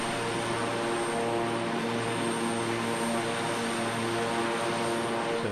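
Aircraft engine noise from plane spotting in Mallorca: a steady, loud propeller drone with a strong hum that holds throughout, with no voices.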